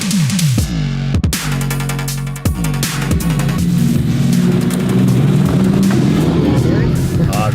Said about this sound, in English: so let's have a test drive